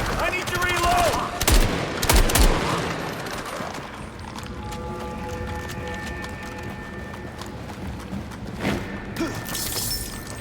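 Video game gunfire from John Carpenter's Toxic Commando: several loud shots and bursts early on, with more scattered shots later over steady game noise, tonal effects and background voices.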